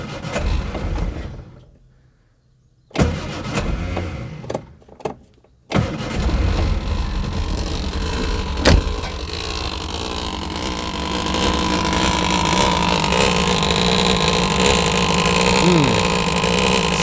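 An old car with its choke wired on is cranked in a few short bursts after a quiet pause, then catches and settles into a loud, steady idle that grows a little rougher and louder.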